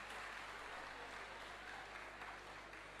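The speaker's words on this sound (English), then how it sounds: "A round of applause for him." Audience applause at an academic roadshow event, steady clapping from a room full of people held at a fairly even level throughout, heard from a distance.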